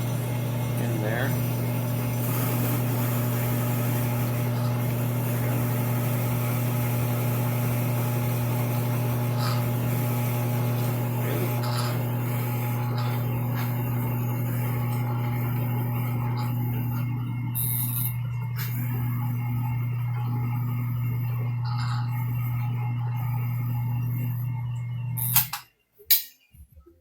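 A drill press boring holes into scrap wood for toy tank wheels hums at a constant pitch for about twenty-five seconds, then cuts off abruptly, leaving a few brief clunks.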